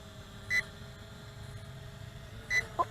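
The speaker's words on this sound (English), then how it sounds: "we got rapid beeping" A KK10S GPS WiFi FPV camera drone gives low-voltage warning beeps: two short, clear electronic tones about two seconds apart, then a third quick tone, all over a faint steady hum.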